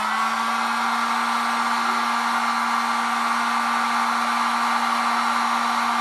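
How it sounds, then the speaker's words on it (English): A heat gun softens the end of a Husqvarna 136 chainsaw fuel line, giving a loud, steady whooshing blow with a constant motor hum that runs unbroken the whole time. "I heat the end of the fuel line with the heat gun and makes it soft"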